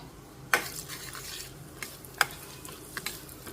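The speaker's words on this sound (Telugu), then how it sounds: "ఇది కొంచెం వేగాలి నూనె ఎక్కువే ఉండాలన్నమాట" Tempering seeds and dried red chillies frying in plenty of hot oil: a soft sizzle broken by a few sharp clinks and knocks of a spoon against the pan.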